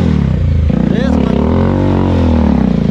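Loud, close engine of a Bajaj Dominar motorcycle revving on an offroad ride, a steady rumble with a quick throttle rise and dip, while a voice talks over it.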